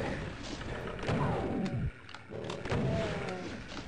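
Chaingunner firing on a Mancubus in Doom II, rapid gunfire bursts mixed with deep roaring monster cries and thuds, loud and dense, with one brief drop in the middle.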